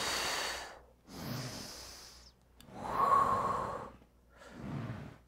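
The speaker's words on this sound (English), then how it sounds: "So I'm gonna exhale down." Close, breathy exhales and inhales during a core exercise on an exercise ball, several slow airy breaths rising and falling in turn, with no talk.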